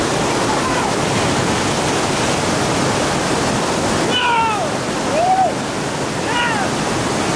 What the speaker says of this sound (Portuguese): Tô no meio da cachoeira, velho.